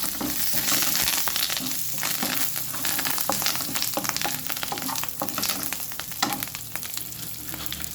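Mustard seeds and curry leaves crackle and sizzle in hot oil for a mango saaru tempering, a loud, close, continuous fry dotted with sharp pops and spatters.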